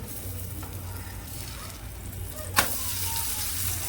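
Butter dosa sizzling on a hot griddle, with a steady soft frying hiss throughout and one brief sharp scrape or tap near the end; no voices.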